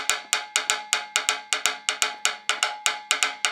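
Sharp wooden palitos sticks clack out a steady run of bright, dry strikes, about four per second with slight accents tracing the clave rhythm, close and alone with no talk.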